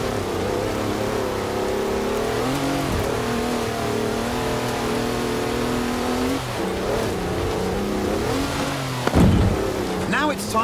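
A 340-horsepower car in Forza Horizon 4 revs its engine in steady, droning pitches that rise and fall, loud and continuous, with a sharper burst near the end, while voices talk over it.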